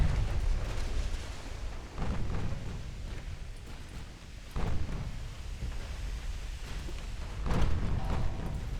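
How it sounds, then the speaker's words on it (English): Torpedo hits on a warship in Ultimate Admiral: Dreadnoughts land as several deep, booming explosions at irregular intervals, low and rumbling over a continuous churning background of sea and battle noise. "we landed another torpedo on the Victorious"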